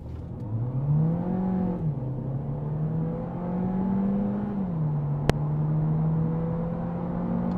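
A 2025 Cupra Leon 1.5 eTSI mild-hybrid with a 150 PS DSG gearbox accelerating hard from 0 to 100, its engine drone climbing steadily with two smooth gear changes, heard from inside the cabin, with one sharp click near the end.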